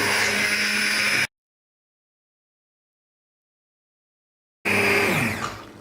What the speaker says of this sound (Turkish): Şimdi iyice ezilene kadar e, blenderdan geçiriyorum.